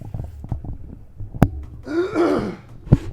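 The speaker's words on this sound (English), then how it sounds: "Sorry, I had to cough." A single rough cough breaks out, then a throaty, scraping clearing sound, with another short cough at the end.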